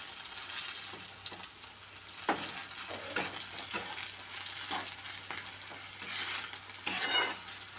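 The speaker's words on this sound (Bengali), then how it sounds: "আর একটু ভাজবো যেহেতু রসুনটা আছে একটু ভাজা ভাজা গন্ধ উঠবে" Garlic frying in a pan for a tomato bharta makes a soft, steady sizzle with a faint low hum beneath it and a few sharper stirring clinks and scrapes, quiet and close, with nobody speaking.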